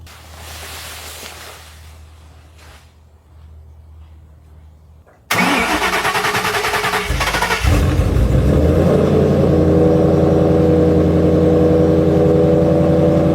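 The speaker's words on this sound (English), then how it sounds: "So I've been letting the Shelby idle for a little bit now." A 2011 Shelby Mustang running on E85 turns over and fires, then settles into a loud, steady idle with a deep rumble, close by, after a few quiet seconds with faint background sounds.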